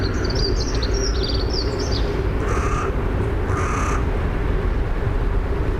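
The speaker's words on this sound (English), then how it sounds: "Can you hear those birds?" Several birds call outdoors along the Thames between Greenwich and Tower Bridge, with harsh crow caws and brighter chirps in short bursts over a steady low background rumble.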